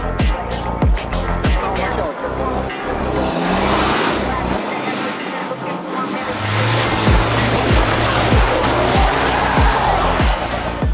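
A Volkswagen Tiguan races at full throttle against a Subaru WRX STI and a Tank 300, its engine roaring loud and close inside the cabin with rising revs and gear changes, while occupants talk over it.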